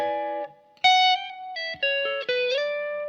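Slow blues electric guitar phrase with effects, a few sustained notes that slide slowly upward from the fifth toward the minor third, played clearly and alone.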